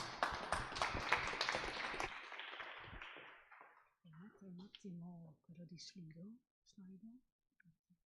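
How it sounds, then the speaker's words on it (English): A burst of audience applause, dense clapping that fades out over a few seconds, followed by someone speaking in a quiet room. "Applause."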